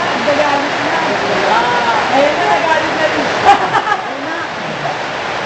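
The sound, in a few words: rain falling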